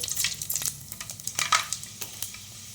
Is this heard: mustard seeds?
yes